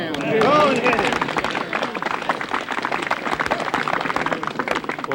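A golf crowd at the 1988 U.S. Women's Open final round applauds a tee shot with dense, sustained clapping and some cheering voices that hold steady throughout.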